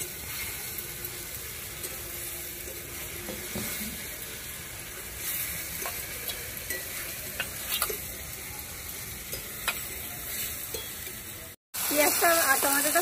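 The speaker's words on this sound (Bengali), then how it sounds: "পেঁয়াজটা আর টমেটোটা ভাজা ভাজা হয়ে গেছে" Onion and tomato fry in a pan, a soft continuous sizzle with scattered light clicks and ticks, low and steady throughout, then a brief cut before a louder burst at the very end.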